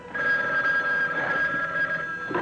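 A telephone bell rings continuously in a film trailer, a loud steady electric trill held for about two seconds, alone with no voices over it.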